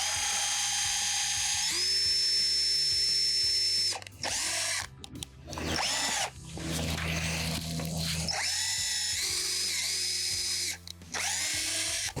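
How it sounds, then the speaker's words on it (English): A power drill bores holes into raised garden bed boards in loud, sustained whining runs that rise and fall, broken by short pauses between bursts. "then you go ahead and extend the drill holes down into the board that it's going to connect."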